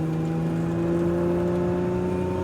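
A 2025 Lotus Emira sports car laps a race track, its engine a steady, close droning hum that builds gradually down a straight, with no talking.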